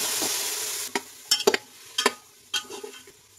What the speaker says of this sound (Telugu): ఇప్పుడు మటన్ ముక్కలు వేసుకుని వేపేసుకోవచ్చు